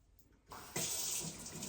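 Kitchen tap opens and water gushes steadily into a sink to wash a stalk of celery, a close, loud continuous rush after a brief quiet start, with no voices.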